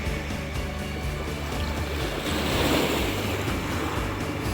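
Black Sea surf rolling in at Arcadia beach in Odesa, heard from a pier: a continuous, fairly loud wash of breaking waves that swells slightly midway, with some wind rumble and no talking.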